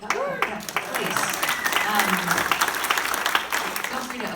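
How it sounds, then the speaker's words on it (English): An audience at a campaign event in Asheville applauds in a dense, sustained burst of clapping, close and fairly loud, with voices mixed in. "Feel free to applaud a lot for Brody."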